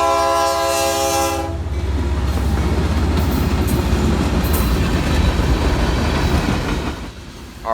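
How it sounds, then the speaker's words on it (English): A Tropicana juice freight train on the Palmetto Subdivision passes through downtown Palmetto, opening with a loud sustained horn blast and then a steady, heavy roar of wagons rolling close by. "the Tropicana juice train, making its way through downtown Palmetto on its way to Yeoman Yard in Tampa"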